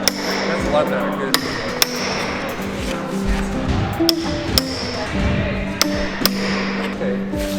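A hammer strikes a saw blade during saw sharpening, sharp metallic taps and pings at irregular intervals, close by, over a low background murmur and shuffling.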